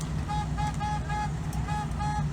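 A deep boat horn honks repeatedly in short, evenly spaced blasts over a steady low rumble of engine and wind, on Lake Spokane (Long Lake) during a boat flotilla.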